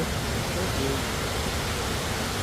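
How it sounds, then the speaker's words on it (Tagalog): Agnes Falls, a 59-metre waterfall in Australia, gives off a loud, steady broadband rush of falling water that fills the whole moment without a break. Voices can be heard beneath the roar. "59 metres. Wow. Agnes Falls."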